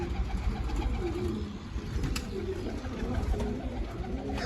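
Pet pigeons in a loft coo softly and repeatedly, a low, murmuring throaty sound close by over a faint background hum.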